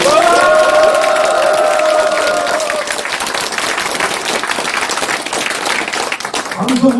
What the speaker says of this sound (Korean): 이 사람들 동의하시면 힘을 박수!